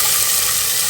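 Shallots sizzle and fry in a pan while cooking rice and lentil dish, a steady close hiss of hot oil filling the whole moment without any talk.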